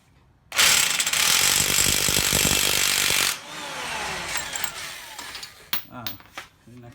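An impact wrench hammers loose the 36 mm axle nut on a 2005 Honda Odyssey, a loud rattling burst of about three seconds, followed by quieter clanks and handling noises of the nut and tools.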